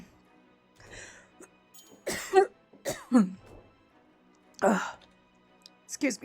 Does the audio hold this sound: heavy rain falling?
no